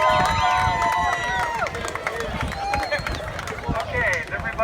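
Crowd on the bank at a bamboo boat race: scattered cheering, whoops and claps rise and fall in a lively mix of many voices, close and fairly loud, with high shouts and whistles across the whole stretch.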